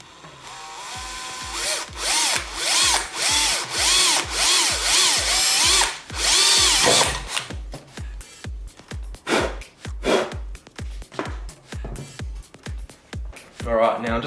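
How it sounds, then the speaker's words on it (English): A power drill boring a pilot hole for a headlight screw in a car headlight modification, several rising whirring bursts followed by rapid stuttering pulses, up close with some breathing sounds. "So we'll drill our pilot hole"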